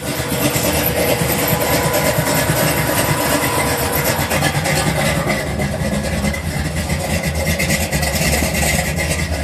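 A 1987 Buick Regal with a Stage-1 455 engine runs at speed, its dense, steady roar filling the clip without pause.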